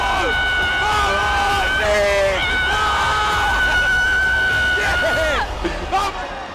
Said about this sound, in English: That was a loud piercing scream in the ear, wasn't it?